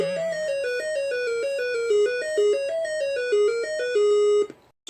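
ZX Spectrum 48k beeper game music, a bright, buzzy single-voice square-wave melody stepping quickly through notes and playing loud and steady, then cutting off abruptly near the end.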